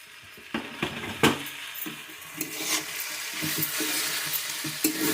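Vegetable chowmein with masala frying in a hot pan at home, stirred with a metal utensil: steady sizzle throughout, punctuated by sharp scraping and clanking strokes at an irregular rhythm, close and fairly loud.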